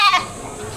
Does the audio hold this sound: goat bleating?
yes